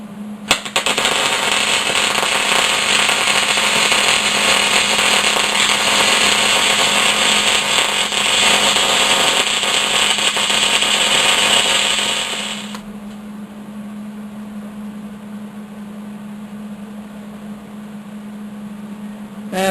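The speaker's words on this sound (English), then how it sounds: "so we'll crank up the welder" A welder runs on steel pipe with a loud, steady crackling hiss for about twelve seconds, then stops and leaves a low electrical hum, with no talking.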